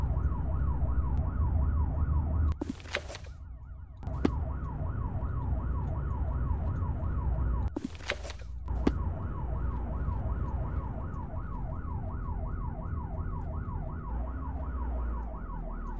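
A steady rising-and-falling vehicle siren in the video game ARMA wails continuously over a deep engine drone, interrupted by two short bursts of loud broadband noise.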